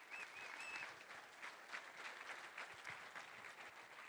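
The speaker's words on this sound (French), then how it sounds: "Diana Nejdi également à la production, on peut l'applaudir bien sûr." An audience at a history talk-show recording applauds, a steady wash of clapping from many hands, fairly faint and continuous throughout with no break.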